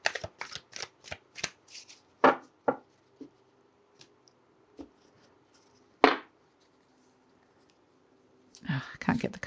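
A tarot deck being shuffled up close, a quick run of crisp riffling bursts, then a few single card slaps and a longer shuffle near the end, with soft handling sounds in between.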